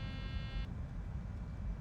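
A cockpit alarm in a Boeing 737-900ER in Microsoft Flight Simulator 2020 sounds as a steady electronic tone and cuts off abruptly after well under a second, leaving only the low, constant rumble of the aircraft.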